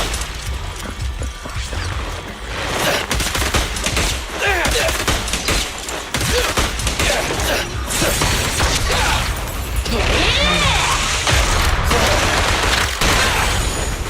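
Rapid gunfire from Zenless Zone Zero, bursts of shots with clattering mechanical clicks and crashes running nonstop, loud and close, with a voice talking over parts of it.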